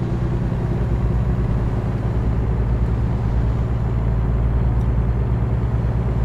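A truck engine drones steadily in American Truck Simulator, a low constant rumble cruising along at even speed, close and continuous with no talking over it.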